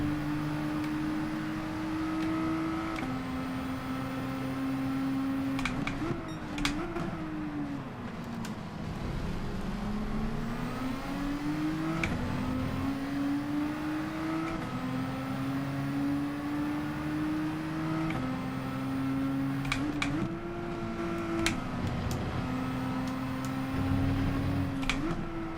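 A Nissan GT-R Group 4 race car in Gran Turismo 7 at Autopolis, its engine droning steadily and rising in pitch through each gear, with repeated upshifts and brief dips as it accelerates, loud and continuous with no talk.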